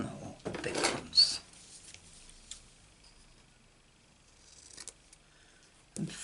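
Scissors snipping through paper during card-making crafts, a couple of quick close cuts near the start, then a quiet stretch with faint rustles and another soft snip near the end, no talking.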